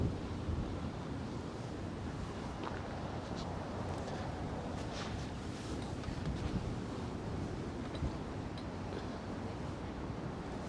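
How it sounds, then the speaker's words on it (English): Wind blows steadily across a waterfront pier in Manhattan, a dense, constant roar buffeting the microphone, with faint water and distant city noise beneath it and no voices. "The wind is moving my camera."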